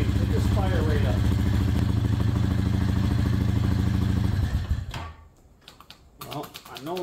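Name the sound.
2008 Honda Fourtrax ATV engine starting and running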